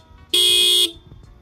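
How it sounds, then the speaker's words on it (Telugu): A 2025 Yamaha R15 Version S motorcycle blares one loud, steady horn blast lasting about half a second, close by, with quiet background before and after. "చాలా లౌడ్ హార్న్ ఇచ్చారు."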